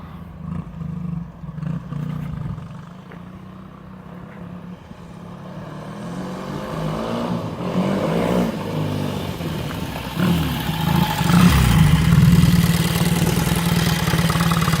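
A 1962 Triumph T100SC 500cc motorcycle engine runs steadily at idle, then revs and builds louder toward the end, with a rising roar close by and no talk over it.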